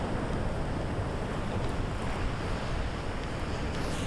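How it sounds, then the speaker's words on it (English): Sea waves surge onto the shore at Bexhill in a constant, loud roar heavy with wind buffeting the microphone, with no talking over it. "Look at these waves now, they're starting to come up now, much bigger."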